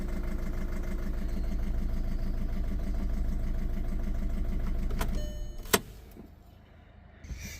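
A malfunctioning car convertible roof mechanism whirs and judders in a steady repeating mechanical rhythm, with the engine light on, then clunks and stops, leaving a faint hum.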